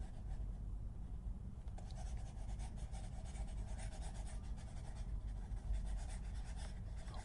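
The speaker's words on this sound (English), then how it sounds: "let me erase all this" Continuous soft rubbing and wiping as a whiteboard is erased during a lesson, close and steady for several seconds, with no talking.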